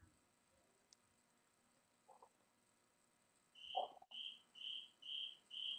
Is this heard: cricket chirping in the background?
yes